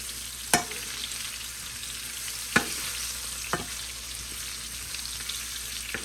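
Potatoes frying in a pan on high heat, a steady soft crackling sizzle with a few sharp pops and spatters standing out over the hiss.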